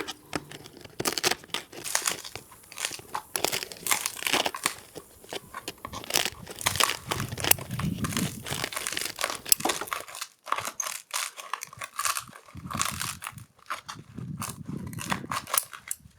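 A dried luffa gourd is handled and squeezed in a garden setting, giving close, crisp crunching and crinkling crackles in irregular bursts, with short pauses and a few quieter stretches.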